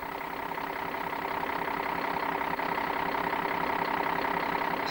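A Volvo FH12 truck's diesel engine idles steadily nearby, a constant low rumble with no voices.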